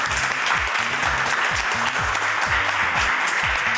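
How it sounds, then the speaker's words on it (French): A studio audience on a French TV talent show claps for a contestant, giving a steady wash of applause over a rhythmic, repeating low musical beat, with no talk. "Allons, on l'applaudit très fort, encore une fois."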